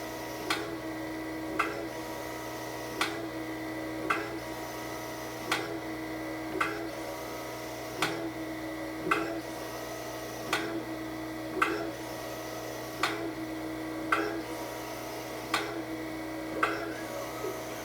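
A Harig Autostep 6 by 18 inch surface grinder running its automatic cycle, a steady motor hum with sharp regular clicks about every one and a half seconds as the table reverses, moderately quiet, without talk.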